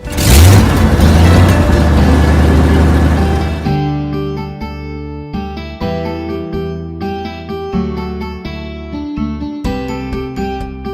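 A jeep engine revs in a loud, roaring burst for the opening few seconds before cutting off, followed by a cheerful melodic music bed for the rest.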